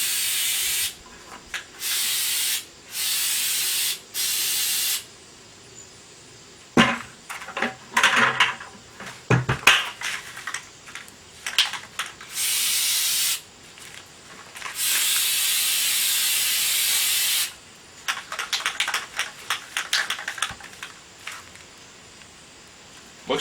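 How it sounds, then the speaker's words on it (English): Flex Seal sprays from an aerosol can in repeated loud hissing bursts of a few seconds each for a second coat, broken by brief pauses, can handling and a quiet voice. "I'm going to go ahead and spray a second coat on here"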